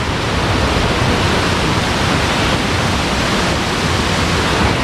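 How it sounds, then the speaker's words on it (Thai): Khlong Lan waterfall in Kamphaeng Phet, Thailand: a steady, loud, broadband rush of falling water fills the whole stretch, with no talk over it. "เข้าชมบรรยากาศนะครับบรรยากาศของน้ำตก"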